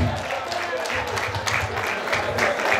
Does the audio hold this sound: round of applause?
yes